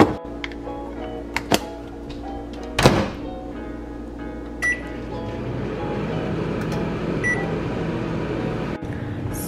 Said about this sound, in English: So we're just gonna pop this in the microwave because college student diet.